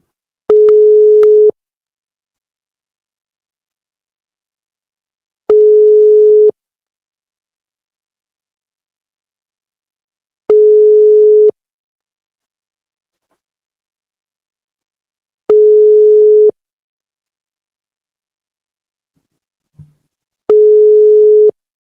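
A telephone busy signal sounds five times, each a steady one-second tone separated by long silent gaps, loud and alone with no talking.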